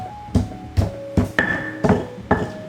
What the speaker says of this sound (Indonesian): pertama ini kita akan haluskan bawang putih dan juga kaldu bubuk